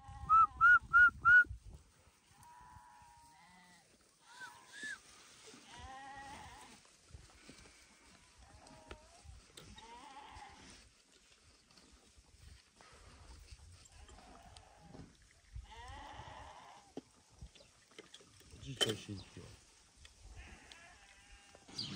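A flock of sheep drinking water gives scattered bleats, near and far, fairly faint, over open-air ambience, with some whistling and brief human sounds mixed in.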